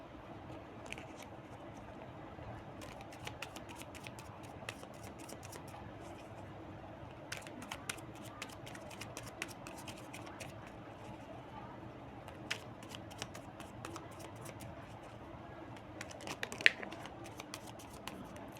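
A deck of tarot cards being shuffled by hand, faint and close, with soft rustling and scattered crisp flicks and taps of the cards coming in irregular bursts.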